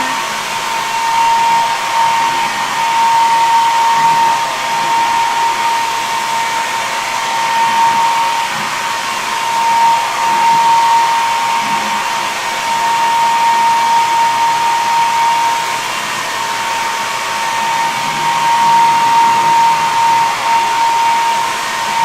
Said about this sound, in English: Always amazed me how quickly a blow dryer, when you use it on hot, really dries those colors.